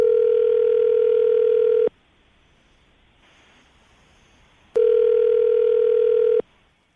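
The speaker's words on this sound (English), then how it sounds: "I'm going to dial the phone number right now" A telephone dial tone sounds in two steady, loud stretches separated by a quiet gap while a phone number is being dialed.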